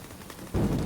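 Video game gunfire erupts as a sudden loud burst partway through and keeps going to the end, over a low hum of game background noise.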